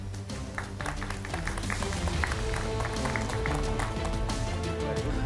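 Steady crowd applause, a dense wash of clapping that holds at an even level throughout.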